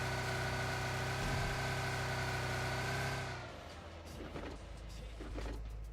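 A car engine in PUBG Mobile hums at a steady drive with a tonal whine, then cuts off abruptly partway through, leaving game ambience with scattered light thuds and scrapes.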